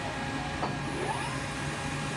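The spindle of a 1996 Enshu 550V CNC vertical mill spins at around 1,000 RPM in low gear, giving off a faint, steady mechanical hum and whir with no breaks.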